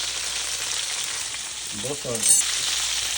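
NY strip steak sautéing in unsalted butter with black pepper in a hot pan, giving a steady loud sizzle throughout with a brief stir and a short spoken remark partway through.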